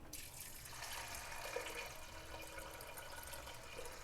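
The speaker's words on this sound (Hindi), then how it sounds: "अब इसके अंदर हमने पानी डाल देना है।" Water pours in a steady, close rush into a metal pressure cooker holding lentils, a continuous splashing gush that holds level throughout.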